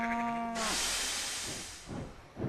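Cattle moo on a farm, a single low drawn-out call at first, then a burst of hissing noise and softer low calls trailing off.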